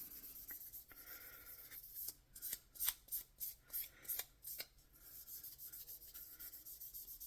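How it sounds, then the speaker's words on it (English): A small metal jump ring is rubbed against sandpaper during jewelry pendant making, producing about seven quick, rhythmic, close scraping strokes in the middle of the clip, with faint scratchy handling before and after in a quiet room. "got some sandpaper here, and just rub one side of it"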